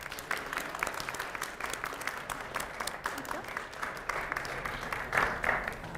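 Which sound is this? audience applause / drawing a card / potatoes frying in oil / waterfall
audience applause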